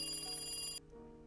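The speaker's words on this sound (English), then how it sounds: "The phone on the desk rang" A desk telephone rings in the visual novel Higurashi When They Cry Kai. A bright electronic ring sounds close and steady, then cuts off abruptly under a faint continuing background tone.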